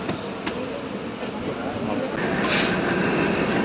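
The Tungabhadra Express pulls out of Falaknuma station with a steady rumble and clatter of rolling stock that grows slightly louder. A brief high screech cuts in partway through, and there is some background noise.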